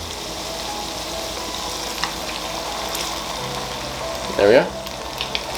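Wine and sauce sizzling and bubbling in a frying pan, a steady moderate crackle with a brief louder stir near the end, while a voice speaks a few words.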